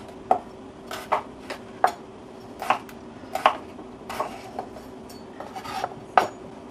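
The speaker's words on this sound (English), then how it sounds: "Cut them into random hunks." Knife chops through potatoes on a cutting board, about a dozen sharp, close clicks and thuds at an uneven pace, with no talking.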